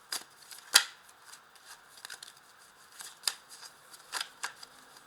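Tarot cards are shuffled softly by hand, with light rustles and a few sharper flicks, faint and close with quiet gaps between.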